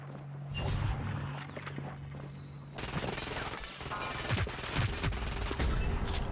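Scattered gunfire in Fortnite, with sniper shots among it, a cluster of sharp cracks building after a quieter opening, moderately loud and irregular over background game sounds.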